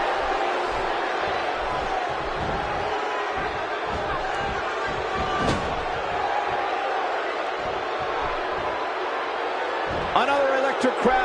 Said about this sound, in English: Another electric crowd on hand here for SmackDown